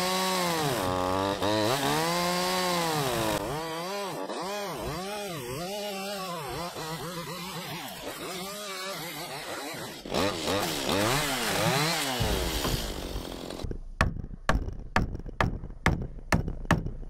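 Chainsaw cutting pole barn posts to length, the engine revving and bogging through the wood for several seconds, then idling off, followed by a series of sharp rhythmic knocks near the end.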